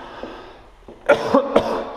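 Several harsh coughs from someone touring a home, a pair of close bursts followed by another, loud and near, rising over a quiet indoor background.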